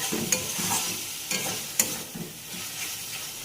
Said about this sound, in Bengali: মশলার সঙ্গে মিশিয়ে নেব